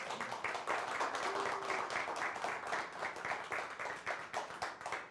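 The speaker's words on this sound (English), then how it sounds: "Go ahead, you can clap." A studio audience at a 2014 telethon claps for a music school, many hands beating a fairly rhythmic, pulsing applause at moderate level for the whole span.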